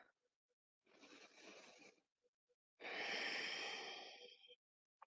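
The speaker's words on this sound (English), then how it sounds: "take a breath" Deep breathing during a yoga flow: a soft, drawn-out inhale followed by a longer, fuller and louder exhale, close and alone in a quiet room.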